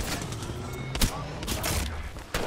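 A few sharp gunshot bursts in the online shooter Apex Legends punch out of dense, noisy game ambience, with scattered shots spread across a short stretch.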